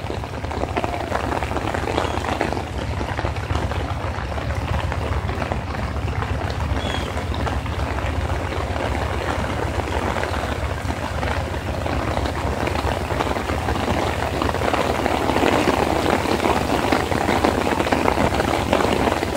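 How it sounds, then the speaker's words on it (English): Steady, loud rain pours outside at a station in Northampton, Massachusetts, on an afternoon as an Amtrak Vermonter train waits, a dense continuous hiss with a low rumble underneath that swells slightly near the end. "Raining outside on this Tuesday afternoon."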